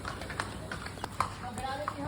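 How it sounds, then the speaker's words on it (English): A donkey and a horse pass on a street in India, their hooves clip-clopping in an uneven rhythm beneath constant background chatter and street noise. "A donkey and a horse."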